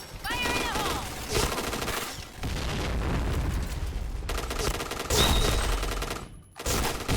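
Bursts of light machine gun fire in the Point Blank shooter game, loud and dense with rapid overlapping shots and a few booms, with brief pauses between volleys.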